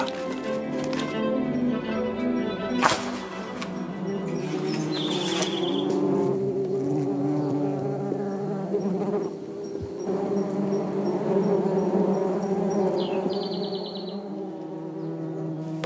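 Hornets buzz steadily around their nest, a dense continuous drone with darting, higher whines passing close by, carried over a low background hum for the whole stretch.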